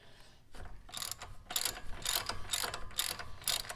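A ratchet loosening brake caliper bolts on a Jeep Renegade, with a quick series of close, sharp clicking bursts that come in rhythmic strokes, each lasting about half a second, and no talking.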